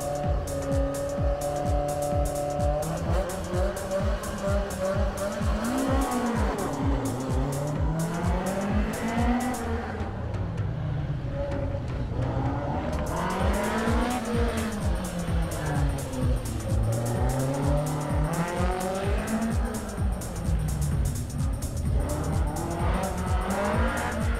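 A rally car on a special stage of the 2022 Rallye du Chablais at Champéry roars past with a high revving engine that rises and falls through the gear changes, loud and sustained across the whole stretch.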